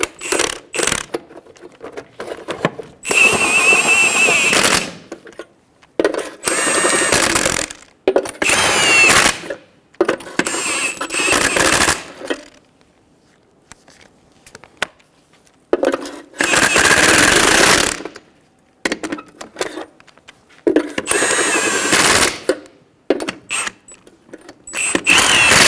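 Power tool running in repeated bursts to snug down lug nuts on a Toyota Tacoma wheel after installation; loud whirring and rattling spells of a few seconds each, broken by quiet gaps, with voices at moments.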